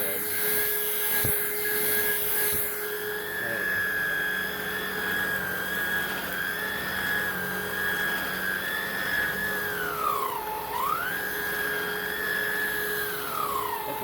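A Hoover React cordless vacuum cleaner runs steadily while sweeping up cut hair and dirt indoors, a loud high-pitched motor whine that dips briefly in pitch and then recovers.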